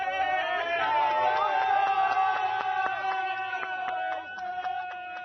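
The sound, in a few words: crowd cheering for the Springboks in Bloemfontein stadium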